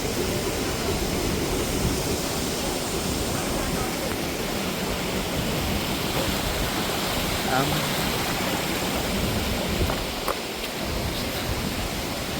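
Steady, full-bodied rush of a village river in Nepal fills the scene without a break, loud and close, with a faint voice briefly surfacing beneath it.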